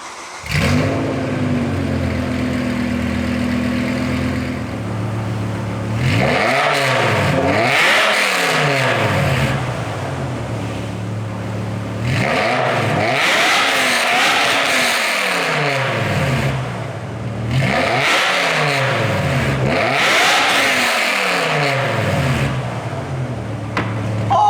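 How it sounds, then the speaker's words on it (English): A BMW E60 M5 fitted with headers and an FI exhaust revs repeatedly up close. Several loud, rising bursts fall back to a rumbling idle between them. "Let's see what the E60 M5 sounds like now with the headers and the FI exhaust."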